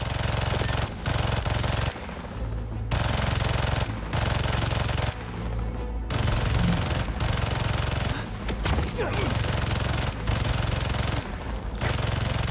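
Gun turret firing in Marvel's Spider-Man 2: loud, sustained bursts of rapid automatic fire with short pauses between volleys, continuous and close throughout.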